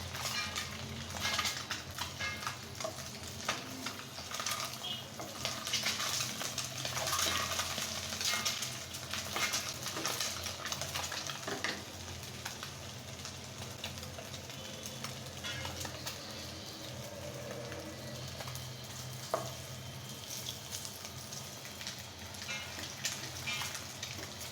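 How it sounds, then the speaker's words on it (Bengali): Two eggs fry in a pan with a continuous crackling sizzle, busier early and settling later, heard close with occasional light scrapes and no voices. "আমি এখন ডিম 2টাকে খুব সুন্দর করে ভেজে নেব"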